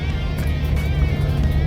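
Bentley Continental GT rolling over a badly potholed road, a steady low road rumble and tyre drone filling the cabin, with faint knocks from the rough surface.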